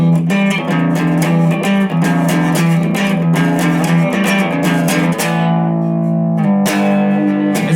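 Electric guitar plays a riff, a driving, repetitive figure with steady picked attacks that stays loud throughout, thinning briefly near the end before resuming.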